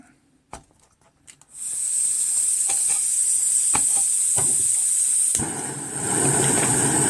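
A homemade alcohol stove cut from a Fancy Feast cat food can burns with a steady, loud, close roaring hiss after a few clicks and taps, the flame noise swelling slightly near the end.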